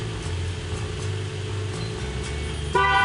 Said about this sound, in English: Go ahead and unlock the car.